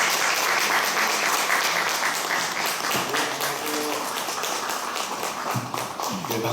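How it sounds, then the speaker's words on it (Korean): An audience at an indoor civic forum applauds a speaker warmly, with dense, steady clapping that holds strong before slowly thinning out. A voice is heard near the end. "김거성 목사님을 따뜻한 박수를 맞아주시면 고맙습니다."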